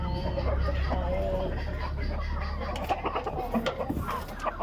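Chickens and a rooster of a tiger breed cluck at a farm in the early morning, soft and somewhat distant under a steady low rumble, with a few sharper clucks toward the end.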